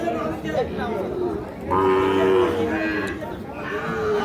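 Sahiwal cattle at the Ambari cattle market, a long clear low moo rising out of crowd chatter and background noise, with people talking nearby.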